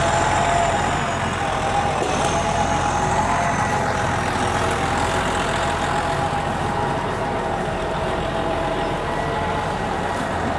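A tractor engine runs continuously in New Zealand while the tractor breaks branches off a tree, with a low, rumbling drone that stays steady and fairly loud throughout.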